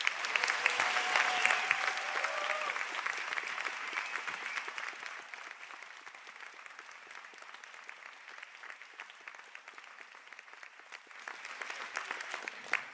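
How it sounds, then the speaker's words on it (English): Graduates at a Sligo conferring ceremony receive sustained audience applause, a steady wash of many hands clapping at moderate distance, continuing evenly for the whole length with a slight swell near the end. "please stand for a round of applause"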